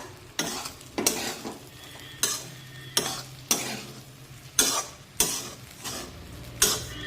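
Rice being stirred and tossed in a pan, with sharp scraping strokes repeating every half second or so over a soft sizzle.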